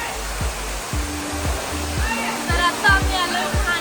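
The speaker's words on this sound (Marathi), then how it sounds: "या डोळ्यातून हा धबधबा पडतोय असा इथे भास होतो." A waterfall at Bhandardara roars in a steady broad rush, with a voice talking over it.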